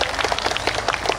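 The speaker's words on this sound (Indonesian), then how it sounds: "Tepuk tangan semua dari Jakarta." A live audience at a Balinese Drama Gong performance breaks into brisk, dense applause, many hands clapping close together in a steady crackling wash without a break.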